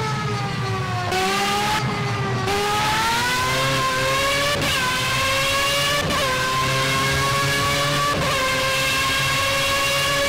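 A Formula A open-wheel race car engine in Project CARS screams loud and close, revving high through rising gear pulls with sharp drops at each upshift, steady and continuous with no talk.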